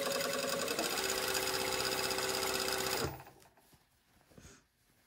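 A sewing machine runs steadily, stitching close to the folded edge of a dress hem for about three seconds, then stops, leaving quiet handling noise.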